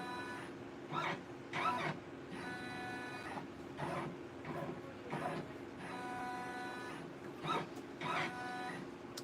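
An embroidery machine traces the outline of a machine-embroidered Easter basket design, a steady mechanical whir with regular bursts of rapid stitching pulses repeating through the clip, fairly faint and close.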